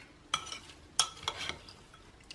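A spoon gives a few quick, faint scrapes and clinks against a bowl while corn salad with a squeeze of lemon juice gets stirred, three sharp taps followed by softer stirring.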